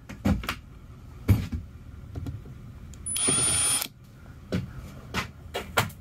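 A cordless power drill backs out interior trim screws inside a bus, sounding as a sharp, close whir of just under a second, set among knocks, clicks and handling noises of the trim panels.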